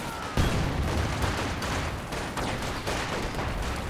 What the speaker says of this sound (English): Nice concussive grenade there.